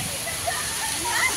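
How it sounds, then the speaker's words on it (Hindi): Rain falls steadily at Sarthana Nature Park in Surat, a soft continuous hiss with faint drips, while someone talks quietly over it. "देखिए बारिश हो रही है"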